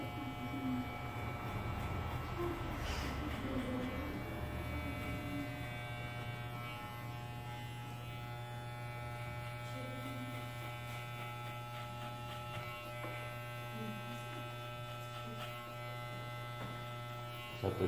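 An electric hair clipper buzzes steadily while cutting hair during a traditional side fade haircut with a quiff, a constant close hum with brief shifts in tone as the blade moves.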